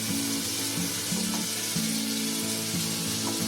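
Rice tipped into hot spices in a pan for a quick prawn rice dish sizzles loudly and continuously, a dense close frying hiss with faint scraping underneath and no talking.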